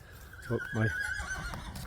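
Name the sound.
horse neighing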